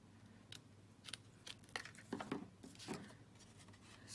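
Scissors snip through a piece of paper card during card making, a series of about eight short, crisp cuts at an irregular pace, close but quiet.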